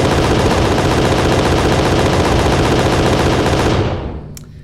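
Spaceship cannons fire in Space Engineers, a very loud, relentless rapid-fire barrage like a machine gun that runs for about four seconds and then cuts off into a fading tail.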